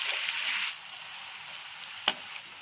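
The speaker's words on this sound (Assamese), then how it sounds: "সামান্য আৰু অকণমান আৰু মই ভাজিম" Vegetables for veg chow mein, carrot, capsicum, French beans and cabbage, frying in a hot pan, a steady loud sizzle that softens partway through, with one sharp clink of a utensil stirring.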